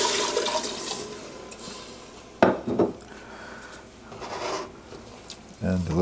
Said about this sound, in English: To that you add your 4 cups of water.